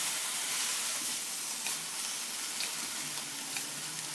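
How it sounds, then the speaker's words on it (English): Sliced bamboo stir-fries with beef and sauce in a hot pan, giving a steady, close hiss of sizzling with faint stirring ticks throughout. "So the heat is still high, and you just keep tossing the sliced bamboo"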